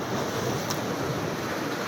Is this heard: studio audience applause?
no